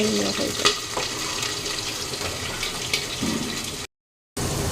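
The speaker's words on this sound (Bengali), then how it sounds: "আলুটা ভাজতে দিয়ে দিয়েছি" Potatoes sizzle steadily in a pan with oil, a close continuous frying hiss with faint stirring clicks, briefly cutting out near the end.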